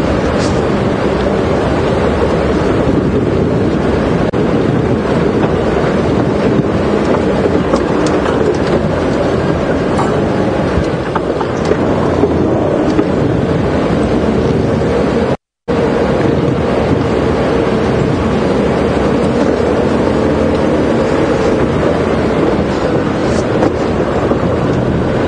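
Steady wind buffets the microphone throughout an open-air afternoon safari drive at Djuma Game Reserve, a constant loud rumble with surf-like gusts and one brief dropout midway, no voices.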